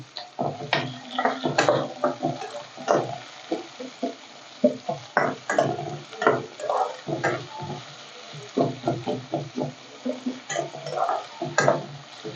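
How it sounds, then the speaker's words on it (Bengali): Onions with salt fry in a pan toward browning, intermittent bursts of sizzle and scraping stirs coming and going over a quiet background. "এখন পেঁয়াজটা ভালোভাবে একটু ভাইজা নিব বাদামি কালার করে"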